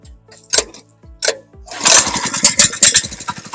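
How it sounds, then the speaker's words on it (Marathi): A few sharp pull-cord tugs, then a 7 HP petrol engine on a weeder machine sputters to life and runs with an uneven, popping roar close by, in a chickpea field. "मशीन मी तुम्हाला लाईव्ह चालू करून दाखवतो"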